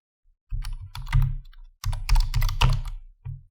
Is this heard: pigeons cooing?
no